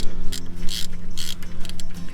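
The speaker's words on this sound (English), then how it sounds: "we'll go ahead and unbolt this caliper" A ratchet clicks rapidly and loudly up close while unbolting the front brake caliper on an old Ford truck, bursts of metallic pawl ticking in quick runs with brief pauses.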